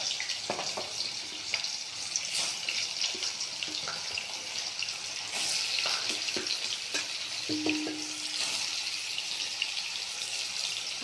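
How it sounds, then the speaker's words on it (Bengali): Cubes of paneer frying in hot oil, a steady bright sizzle that holds close and continuous throughout, with occasional light clinks and stirring noises over it. "তেলটা গরম হয়ে গেছে, পনিরগুলো আস্তে আস্তে ভাজায় দিয়ে দেবো, অল্প লাল করে ভাজবো।"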